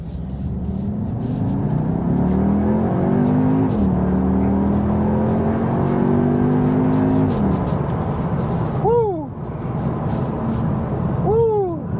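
An Audi SQ2 engine revs up through rising gear pitches in sports mode, shifting a few times as it accelerates hard, loud and close, with whining tones near the end.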